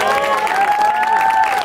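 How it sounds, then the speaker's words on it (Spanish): A small group at a family graduation celebration applauds and cheers, close and loud in one short burst, with a sustained tonal ring over the clapping and voices mixed in. "Un aplauso, por favor."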